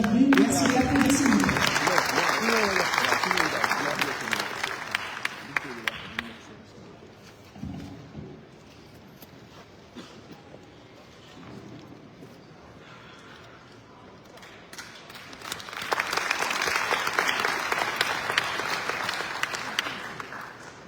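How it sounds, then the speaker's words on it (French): Audience applause at the opening ceremony of the African tourism markets fair in a large theatre welcomes Dr Adama Ndiaye, swelling loudly, easing off in the middle under a voice and some thuds, then building again to a full, sustained ovation. "Merci de l'applaudir."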